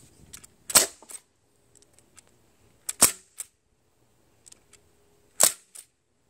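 A Sig Sauer HPA-converted .177 air rifle fires three sharp, snappy shots spaced a couple of seconds apart, each followed by a quick mechanical click, with near silence in between.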